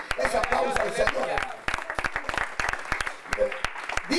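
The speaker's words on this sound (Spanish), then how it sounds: "dale fuerte ese aplauso al Señor" Congregation at a church service clapping in praise, a loud burst of claps under a preacher's voice and shouts, thinning to scattered claps and fading toward the end.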